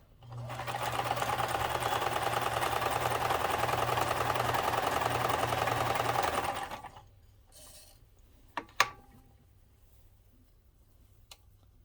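Kenmore 158.13400 sewing machine stitching steadily for about six seconds with a fast, even mechanical whir, then stopping, followed by a few faint clicks and taps in a quiet room.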